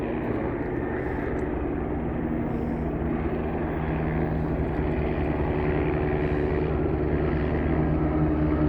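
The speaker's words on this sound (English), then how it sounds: "That's the command helicopter." Helicopter rotor and engine drone overhead during a farm fire, a steady low rumble with a faint thrum, continuous and fairly distant with no talk.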